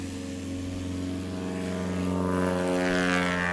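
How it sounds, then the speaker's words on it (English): A propeller airplane of the Back Country class takes off from a short strip, its steady engine drone loud and close, rising gradually in pitch and intensity as it accelerates, with no talk. "Very nice takeoff."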